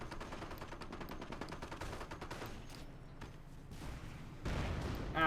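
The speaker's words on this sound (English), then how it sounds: "Panzer 6 mortar fire landing." Mortar shells from a Panzer VI land amid continuous gunfire in a Company of Heroes battle, with a dense rattle of shots and a louder, heavier burst of impacts toward the end.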